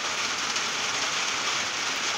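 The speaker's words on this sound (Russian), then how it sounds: "Ливень у нас, ля-ля-ля-ля." A heavy rain downpour pours down steadily outdoors at a rural home, a dense continuous hiss of drops drumming on surfaces with no pauses or voices.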